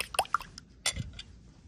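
Lightly beaten egg poured over a homemade meatloaf, heard as a few quick wet drips and plops close by, followed by a softer splash and a trailing quiet stretch.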